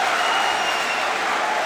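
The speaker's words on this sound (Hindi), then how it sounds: "तालियां बढ़िया से आनी थी।" Loud, dense applause from a live comedy and poetry show audience fills the moment steadily from start to end, with no voices rising above it.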